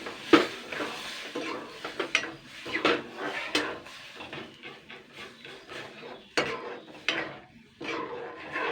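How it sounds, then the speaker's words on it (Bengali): Semolina is stirred in a pan by hand while thickened milk is poured in for gulab jamun dough, giving close, busy scraping and clinking with several sharper knocks and no talking. "এক হাতে দেবো, আর এক হাতে কিন্তু নাড়াতে হবে কিন্তু সুজিটাকে"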